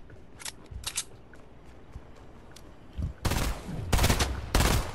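Gunfire in an online squad video game, heard as a few faint distant cracks at first, then three loud close bursts of shots near the end.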